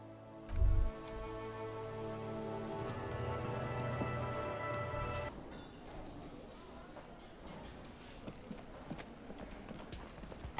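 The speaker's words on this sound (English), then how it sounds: "This rain will not let up anytime soon." Steady rain falls in the Disco Elysium game, a dense patter across the whole stretch, joined early on by loud tonal music and thuds, then thinning into scattered drops with clip-clop-like taps.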